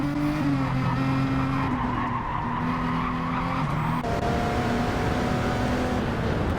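A Gran Turismo 7 race car skids off track at a corner during a wet-weather endurance race, tires squealing in long sustained wails over a steady loud engine drone with shifting pitch.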